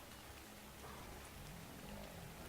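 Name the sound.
rain falling in video game ARK Survival Evolved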